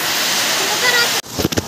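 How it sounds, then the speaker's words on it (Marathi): A waterfall at Tamhini Ghat gives a steady, full rushing roar close by, which cuts off abruptly near the end, followed by a few brief splashes or bumps. "तर गाईज एक धबधबा तिथं आपण थांबलेले"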